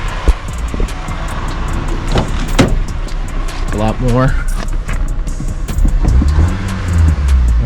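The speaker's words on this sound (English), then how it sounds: "You might be able to hear that transmission noise," A car's transmission whines and rumbles with a rear-end kick and knock, a steady drivetrain drone running beneath someone talking close by inside the cabin.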